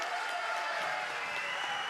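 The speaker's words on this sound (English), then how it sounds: "And listen to this crowd absolutely behind both of these competitors." Crowd at a SoCal Pro Wrestling show in Vista, California, applauding and cheering steadily in a dense, sustained wash of clapping, moderately loud and unbroken.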